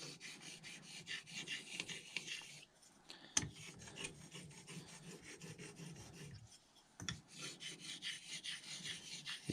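A blade is honed by hand with steady, rhythmic rasping strokes, close up and fairly quiet, with a couple of brief pauses and a sharp tap partway through. No voices.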